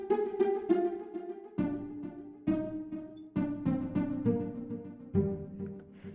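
A bouncy synth melody built from a Xenology spaghetto patch plays plucked, bright notes in a swung triplet rhythm, each note ringing briefly before the next, clear and alone with no voices.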